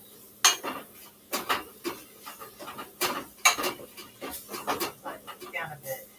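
Cabbage stir-fried in a pan with a utensil, giving a run of repeated clanks and scrapes in an uneven rhythm and a faint sizzle underneath, while a person talks between the strokes.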